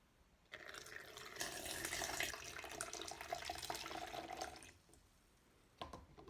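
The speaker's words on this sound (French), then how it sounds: "je vais essayer de verser de l'eau au travers de l'entonnoir" Water poured through a funnel, a soft continuous splashing trickle that starts abruptly, swells for a few seconds and then tapers off, faint and close with no talking.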